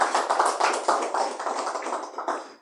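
A church congregation claps together for Jesus, a dense, steady patter of many hands close by that fills the short moment with no voices over it.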